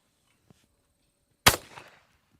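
Single shotgun blast fired at a clay target, a sharp loud crack followed by a brief rumbling decay, preceded by a faint tick and otherwise quiet.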